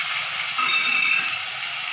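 Chopped tomatoes and green chilli frying in oil give a bright, continuous crackling sizzle close to the pan, fairly loud and unbroken, with no speech.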